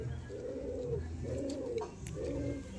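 Low pigeon coos come in three drawn-out phrases, close and fairly soft, from domestic birds of medium size. Nobody speaks.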